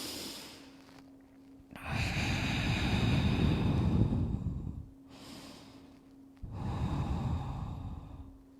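Two slow, deep breaths are taken close up while holding a yoga pose with glutes on heels and forehead on the mat; each is a long, airy rush of air separated by near-quiet pauses.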